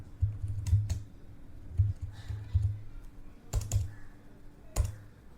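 Typing on a computer keyboard, with scattered soft key clicks and a few sharper taps in short bursts, quiet and close with no talk.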